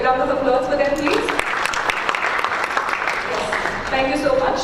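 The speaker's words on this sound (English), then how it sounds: "May we have a round of applause for them, please?" An audience at a data-science talk on artificial intelligence gives a brief round of applause for the presenters, with clapping rising between stretches of background voices and musical tones.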